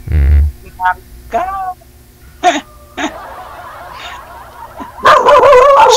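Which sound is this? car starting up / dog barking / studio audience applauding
dog barking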